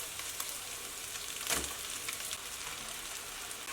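Shredded steamed potato being stir-fried in a wok with chili, scallion whites and garlic slices, a steady soft sizzle with one brief clatter of the spatula midway, no talking.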